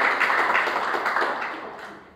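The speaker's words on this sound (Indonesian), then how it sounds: "Beri dulu tepuk tangan terbaik buat Tuhan Yesus." A church congregation claps together in a brief burst of close, rapid hand claps that fades over about two seconds.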